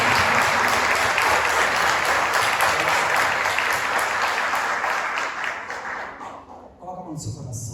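A church congregation at Mass applauds after the Gospel reading, a loud sustained wash of clapping that thins out toward the end, where a voice briefly begins speaking.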